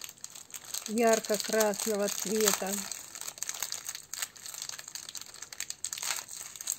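Plastic packets holding rhinestones are opened, crinkling close and crisply in a burst of several quick rustles, with someone speaking over part of it.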